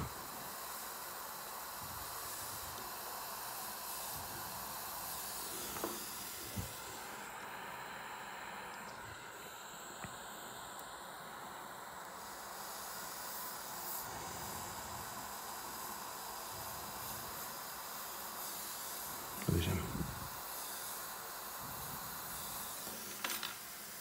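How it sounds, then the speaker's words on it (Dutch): A continuous soft hiss and bubbling of water boiling on a hot gold ring during soldering, with occasional faint knocks and a louder thump near the end; no talking. "Je hoort het water dus ook koken."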